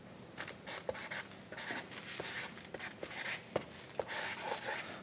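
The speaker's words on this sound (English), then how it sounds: "So I'm writing no oil." A marker writes across a label for an oil versus oil-free mushroom steak test, giving short scratchy strokes in quick bursts, close and fairly quiet, with brief pauses between words.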